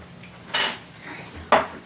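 A spoon stirs paleo biscuit dough in a pot, giving two sharp metallic clanks against the rim between softer scraping, close by.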